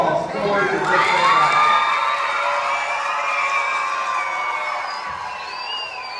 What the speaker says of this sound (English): you can give one big applause for your victory